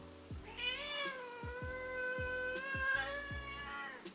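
A domestic cat meows several times in drawn-out, rising and falling calls, close and clear, at home while it rubs against someone's feet, with soft thumps beneath.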